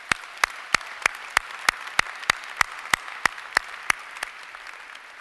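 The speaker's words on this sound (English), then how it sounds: "you deserve a big round of applause for your success" Commencement ceremony audience at Binghamton University's Harpur College, 2017, heard as a steady run of distinct evenly spaced claps, about a dozen sharp hand claps over quiet background.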